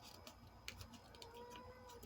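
Pet cat meowing indoors in a quiet room, a couple of faint, soft meows with small clicks and rustles, distant and low in level.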